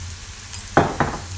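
Turmeric, coriander-cumin powder, red chili and salt for besan bhurji hit hot oil in a pan, giving a couple of short sizzling bursts over a low background hum.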